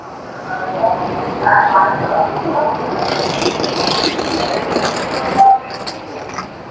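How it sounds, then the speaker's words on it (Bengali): A Chinese bullet train waits at a busy station platform, its rumble and rail noise mixed with a murmuring crowd, a clear station chime and a loud clunk near the end, with people talking nearby. "আমার ট্রেন আঠারো নম্বর প্ল্যাটফর্ম থেকে ছেড়ে যাবে"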